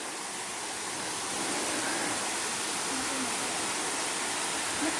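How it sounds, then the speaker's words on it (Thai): Ko Luang waterfall in Mae Ping National Park, Lamphun, pours as a loud, steady broadband roar of rushing water, close and continuous without pause. "น้ำตกก้อหลวงก็จะเป็นนี้ครับ"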